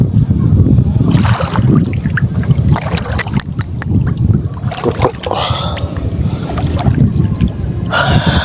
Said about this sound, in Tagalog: Tsaka ang lakas pa ng hangin.